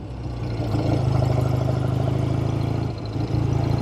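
A 1970 Triumph TR6 Tiger motorcycle engine runs steadily close by, a throbbing mid-low drone that dips briefly near the end and then picks back up.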